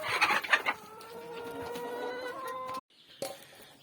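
Turkeys and chickens cluck close by as grain is scattered for them outdoors, with a dense burst of overlapping clucks followed by sustained, tonal calls and a brief pause before a few more sounds.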